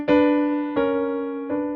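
Two sustained voices sung or played together in parallel sixths as a short harmony example, three chords struck about every three-quarters of a second, each decaying gently, close and clear with no talking.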